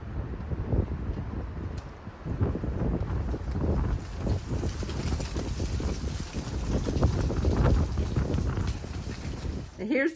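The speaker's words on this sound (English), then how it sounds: "It's pretty windy." Wind blows into the microphone outdoors on a windy day, making a continuous low, rumbling roar that swells and fades in gusts throughout.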